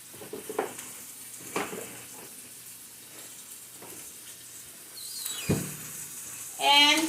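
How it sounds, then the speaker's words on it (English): Onion and garlic powder being stirred in a hot pan for homemade lasagna, a steady moderate sizzle with spoon scrapes and clinks, ending in a louder crackling burst. "And just stir it all up."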